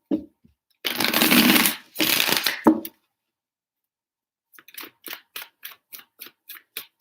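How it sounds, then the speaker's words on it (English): A deck of tarot cards shuffled close up in two long riffling bursts, followed after a pause by a series of short, evenly spaced card taps or flicks. "3 shuffles."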